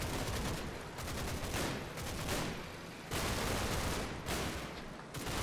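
Sustained bursts of gunfire from Combat Mission: Battle for Normandy, dense overlapping shots and rattling volleys rolling in waves, loud and continuous with no voices.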